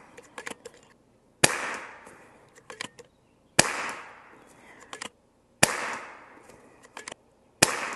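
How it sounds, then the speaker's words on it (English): FX DRS Classic .22 air rifle firing in a backyard: four sharp, separate shots spaced a couple of seconds apart, each a crisp crack with a short decaying tail, with small ticks and clicks in between. "We'll shoot one more 5-shot round group and then we'll top it off."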